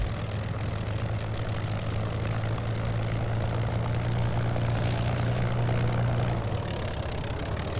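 Propeller plane engines drone continuously in an air battle video game, a loud dense roar with a steady low hum that drops away near the end, with no talking.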